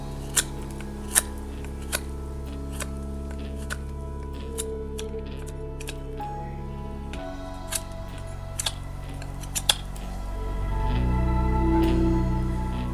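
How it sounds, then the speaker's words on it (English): Knife shaving a split piece of wood flat for spoon carving, with irregular small clicks and scraping strokes over a steady low hum, rising into a longer rasp near the end. "is flatten out my piece of wood, because this has been split from a larger piece, so it's not even."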